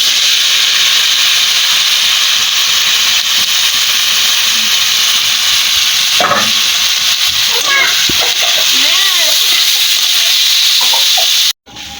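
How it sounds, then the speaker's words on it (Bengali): Jackfruit seeds frying in hot oil in a wok make a steady, loud sizzling hiss that runs unbroken for about eleven seconds, with a voice briefly heard over it. "কড়াই তেল গরম হয়ে গেছে, এখন এটা আমি দিয়ে দিব।"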